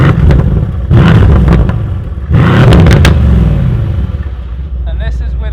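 Mercedes C63 AMG with a performance exhaust, heard from behind the car, blipped in a few sharp loud revs that drop back to a deep rumbling idle.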